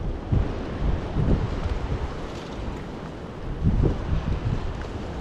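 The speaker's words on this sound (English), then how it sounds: "It's getting windy." Gusty wind on a lake while fishing buffets the microphone in loud, rumbling bursts, with a broad rushing roar throughout and no talking.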